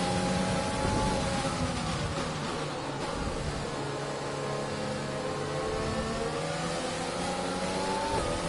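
A Formula One race car in the F1 2020 game idles and revs steadily at a Spain Grand Prix race start, a continuous buzzing engine drone with gentle rises and falls in pitch, alone and fairly loud.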